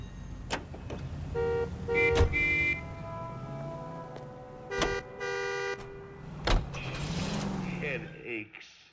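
A car engine hums in the L.A. Noire video game, joined by clicks, tonal beeps and short horn-like toots, while a musical score plays underneath.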